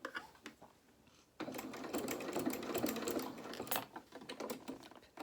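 A sewing machine stitches doll-sized dungarees, starting after a quiet second and then running in one steady, close, mechanical whirr with rapid needle ticks, pausing briefly near the end.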